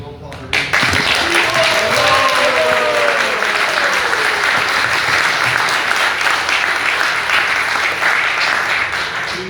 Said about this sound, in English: So we should have a round of applause for Gopal.